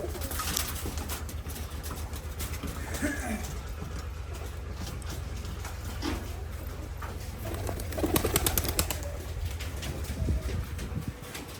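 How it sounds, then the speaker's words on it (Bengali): Pigeons coo softly and repeatedly, close by, one sitting on eggs, under a low steady background hum, with some speech mixed in. "দেখেন কবুতরটা এই জায়গাতে ডিমে বসে আছে"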